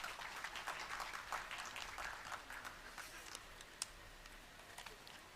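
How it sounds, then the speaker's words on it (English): Audience applause welcoming a speaker at a hospital opening ceremony, a faint, distant, steady patter of clapping from a crowd with a few sharper claps standing out. "Ladies and gentlemen, please welcome with a big round of applause"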